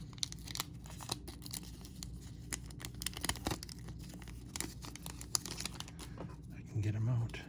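A Bowman baseball card pack being torn open by hand, with crinkly foil tearing and rustling in short bursts and scattered ticks, fairly quiet and close, with a brief low thump near the end.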